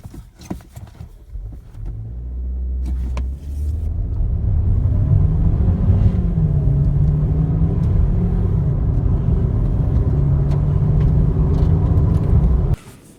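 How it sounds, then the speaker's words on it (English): A 2017 Chevrolet Cruze Premier sedan accelerates hard from a standstill to 60 mph, its engine rising into a loud, steady drone heard from inside the cabin that holds for about nine seconds before cutting off abruptly. "let's see how this vehicle goes from 0 to 60."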